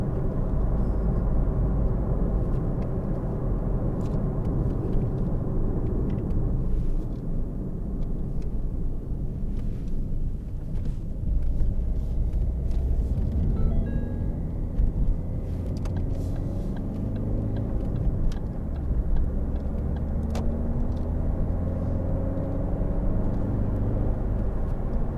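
A 2013 Ford Focus 1.6 TDCi ECOnetic Zetec diesel hatchback drives along a road, with a steady low engine rumble and tyre and road noise building as it accelerates through the gears, heard from inside the car.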